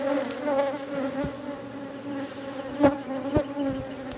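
Honey bees buzzing around an open backyard hive during an inspection, a steady close droning hum with individual bees whizzing past the microphone now and then.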